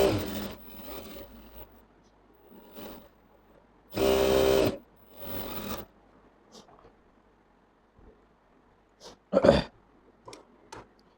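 A sewing machine stitches a school uniform shirt collar in short separate bursts, the longest lasting about a second, with quiet handling rustle between them and no talking.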